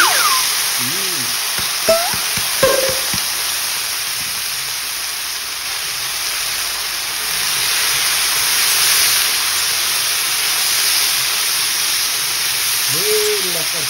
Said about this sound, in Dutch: Dan ga ik die mooi samen bakken.